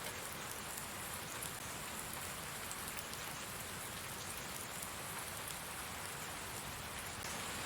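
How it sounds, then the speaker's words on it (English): Heavy night-time rainstorm in Farming Simulator 19, a dense and unbroken hiss of downpour on surfaces that stays steady and even throughout with no speech. "the rain is really coming down"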